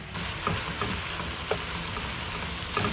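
Half a pound of ground beef and half a pound of sweet Italian sausage fry in a pan with a steady, close sizzle, broken by a few soft stirring clicks; no one speaks.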